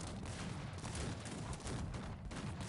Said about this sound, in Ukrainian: Зараз буде приймати, звісно, залпи гармат